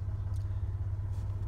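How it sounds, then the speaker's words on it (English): A car being driven at night, heard from inside as a steady low engine and road rumble, quiet and unbroken, with no talking. "I'm driving the In-N-Out Burger right now, going to get some dinner"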